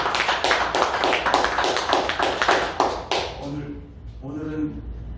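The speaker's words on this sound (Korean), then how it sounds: "우리 하나님께 박수합시다" A church congregation claps together in a fast, loud, rhythmic burst for about three seconds, then a voice takes over.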